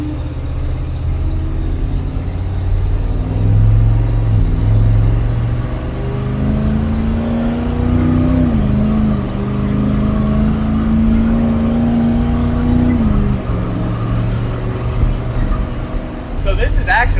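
A 1969 fire truck engine revs as the truck drives and makes a turn, a loud, close motor drone rising and holding in pitch, then easing off.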